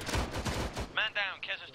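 Gunfire from the Arma 3 military shooter game rings out in a rapid burst of shots, followed by several shorter, sharper cracks with ringing echoes, fairly loud and close.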